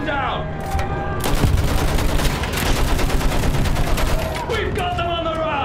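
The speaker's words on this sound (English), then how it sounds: "Use that machine gun! Slow them down!" Machine gun fire in the Battlefield 1 prologue, a sustained rattling stream of rapid shots with booms mixed in, loud and dense, while shouted voices are heard at the start and end.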